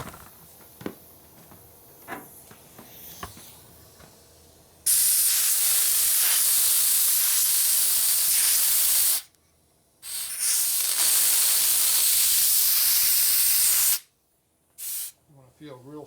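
Compressed air blasts onto 1961 Harley-Davidson Sportster XLCH transmission parts during a rebuild: quiet shop clinks, then two long loud hissing bursts with a brief gap, ending in a few short puffs.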